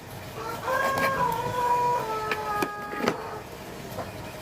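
Chickens being fed sausage near a tilapia hatchery cluck and call, with a drawn-out crow-like cry early on and a few sharper squawks after, close by and fairly quiet.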